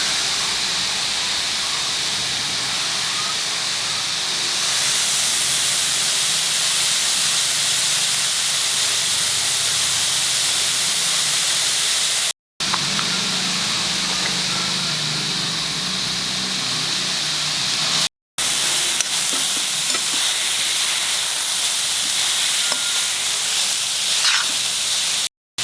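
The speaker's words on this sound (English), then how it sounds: "as the carrots are getting fried, roasted with the ghee" Carrots frying and roasting in ghee for carrot halwa give a steady, close sizzling hiss that runs continuously with a couple of brief breaks.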